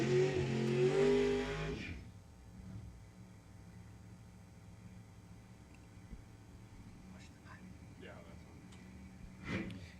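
A drag racing car revs its engine loudly for about two seconds before the sound falls away to a faint, distant rumble, with a voice mixed in over the revving.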